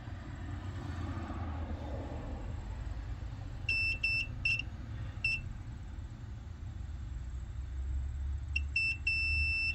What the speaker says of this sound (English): But this one here, if I put it on it, it's gonna beep.